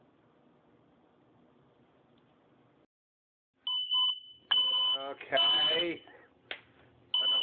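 A loud electronic fire alarm beeps in harsh, intermittent bursts after a stretch of low background noise in a kitchen, with a short spoken word in between.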